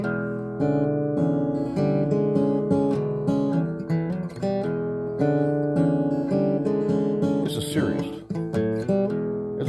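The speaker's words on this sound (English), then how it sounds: "It's a down-tempo, 12-bar blues, in E, and it sounds like this." A down-tempo 12-bar blues in E plays steadily as a full instrumental with sustained harmonic chords and a moving line. It is loud and continuous, with one brief brighter rough burst near the end.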